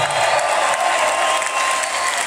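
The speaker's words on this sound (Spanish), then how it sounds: "un aplauso para el señor" A crowd at a music event in San Pablo del Monte applauds for a man, a steady, even wash of clapping that continues for a couple of seconds without any talk over it.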